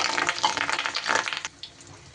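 Water runs and splashes while a bowl is rinsed in a kitchen after fish roe is added for cooking, a close, steady gush that stops abruptly after about one and a half seconds.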